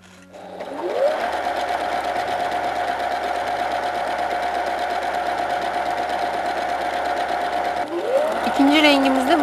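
A sewing machine stitches a crocheted-style table cover in one long steady run, a close, even whirring hum that starts up, holds constant for several seconds, then slows as it stops and restarts briefly.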